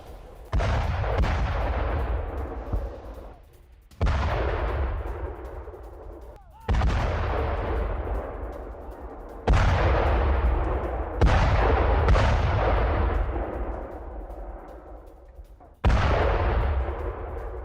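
Heavy artillery and gunfire from a Ukrainian assault on Bakhmut, in war news footage: about six loud, evenly spaced blasts, each followed by a long rumbling decay, with no talk.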